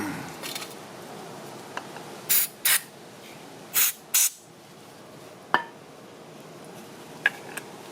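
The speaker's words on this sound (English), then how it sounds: "Use compressed air and just spray through all of it." Four short bursts of compressed air hissing in pairs through the passages of a Toro lawn mower carburetor, with faint clicks and small clinks between them in a quiet room.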